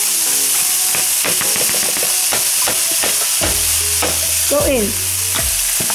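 Shrimps dropped into a hot pan fry with a loud, dense sizzle up close, broken by scraping stir clicks and clatter; a voice briefly speaks partway through.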